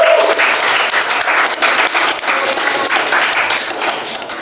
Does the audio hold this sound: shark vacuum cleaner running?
no